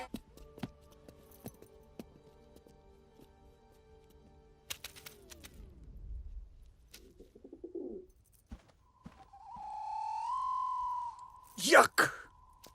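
Soft pigeon cooing among scattered background noises, followed by a whistle-like tone and a brief loud burst near the end.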